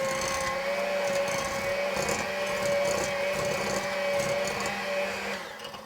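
Electric mixer creaming butter and sugar for pumpkin pie cookies, a steady close whirring motor hum that runs continuously and fades slightly at the end.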